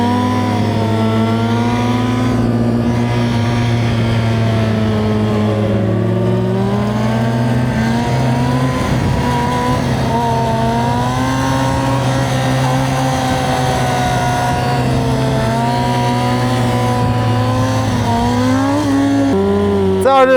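A motorcycle rides slowly on its rear wheel in a wheelie, its engine humming steadily and loud nearby with gentle pitch swells as the throttle is held and eased.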